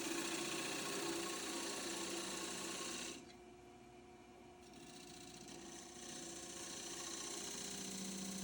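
A wood lathe spins a roughed-out bowl blank from a log while a gouge cuts along the edge of the tenon to form a dovetail undercut, giving a steady, close, loud whirring rasp that softens briefly midway and then resumes.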